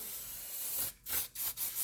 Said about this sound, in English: we can spray it down with brake clean again and make sure we don't have any residue